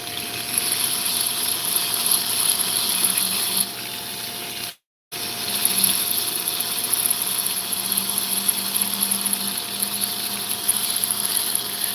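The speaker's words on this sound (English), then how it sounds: "And get that area with my burr." A rotary tool burr grinding fire agate makes a continuous, close, high whirring whine with a steady tone. It runs without letup apart from a brief cutout partway through.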